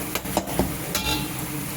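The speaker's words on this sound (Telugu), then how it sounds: "ఇప్పుడు అల్లం వెల్లుల్లి పేస్ట్ కూడా బాగా ఇలా ఫ్రై అవ్వాలి ఫ్రెండ్స్." Ginger garlic paste frying in a pan for a fish curry, a steady sizzle broken by a few scraping stirs and light clinks of a spoon against the pan.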